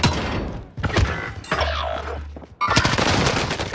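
Gunfire from Call of Duty: Modern Warfare Warzone rings out in loud, close bursts of rapid shots, broken by brief lulls before another heavy volley.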